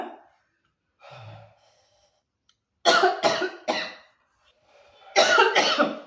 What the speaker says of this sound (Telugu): నాకు కూడా దగ్గు వస్తుంది కానీ నేను ఆపుకుంటున్నా.